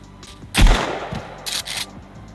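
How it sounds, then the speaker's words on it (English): Rifle fire from the Sons of the Forest video game: one loud, sharp shot followed by a few quieter cracks and bursts within a couple of seconds, with no voices. "So next up, we got the rifle."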